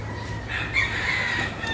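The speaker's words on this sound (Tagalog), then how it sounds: "Ngayon natin bigyan ng tubig ang manok." Chickens cluck on a small farm, a steady throaty chatter with a brief louder call near the middle, heard up close and alone without talk.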